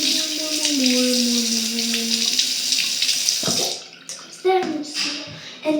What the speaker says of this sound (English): So just get the warm water and pouring it on top